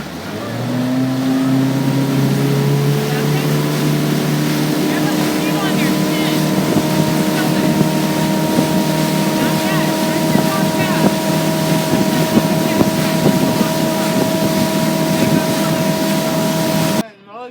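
A motorboat engine runs steadily on a lake with a sustained droning hum and faint wind buffeting the microphone, constant and close throughout before cutting off at the end.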